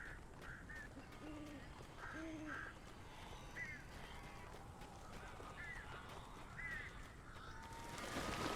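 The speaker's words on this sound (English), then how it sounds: "These birds are weird." Strange birds cawing inside a building in the Alan Wake video game, a series of short nasal honking calls in pairs repeating over several seconds above a low ambient hum, with no talk.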